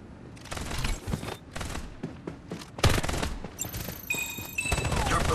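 Rapid gunfire bursts in the video game Farlight 84, loud, dense volleys of shots with brief gaps, followed by electronic tones near the end.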